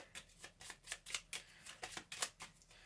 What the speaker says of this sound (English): Separate them and shuffle the deck.